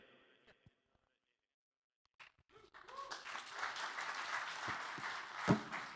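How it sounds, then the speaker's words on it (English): Applause from a tech conference audience swells after a brief lull and holds steady and fairly loud to the end, with a louder crack near the close and voices mixed underneath. "It's the first time I've got that much applause for just an introduction"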